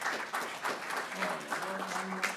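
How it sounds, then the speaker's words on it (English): An audience applauds at a Native American Heritage Month kickoff event, with fairly quiet, continuous hand clapping from a room of people and a voice rising faintly beneath the clapping toward the end. "Round of applause for that answer as well."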